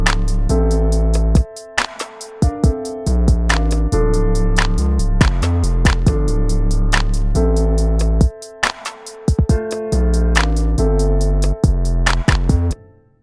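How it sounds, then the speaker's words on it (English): An 808 bass line with its separated upper range removed, playing as a deep, booming pattern of repeated low notes with short gaps and sharp transients, loud and up close with no voices. "So if I were to play it without the upper range that I separated,"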